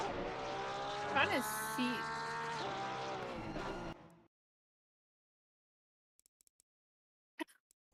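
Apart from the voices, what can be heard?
faster Audi race car coming up behind, racing video game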